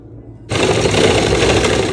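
A sewing machine starts abruptly while stitching a blouse and runs as a loud, steady whirring buzz after half a second of quiet.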